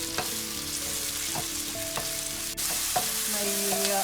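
Tomatoes sizzle in a pan with softened onion and ginger, a steady frying hiss broken by several clanks and scrapes of a utensil stirring against the pan, close and with no voices.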